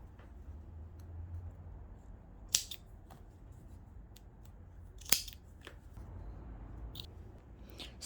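Scissors snipping through the fleece waistband of jogger pants, two sharp crisp cuts standing out over a low steady room rumble with a few faint ticks between.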